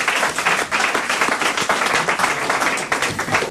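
A studio audience on a French comedy talk show bursts into steady applause, dense clapping that fills the room continuously for a few seconds without pause.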